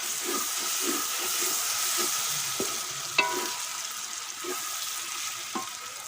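Potato and bitter gourd fry in a pan while being stirred, a steady close sizzle and hiss broken by soft scraping strokes and a few sharp utensil clicks against the pan.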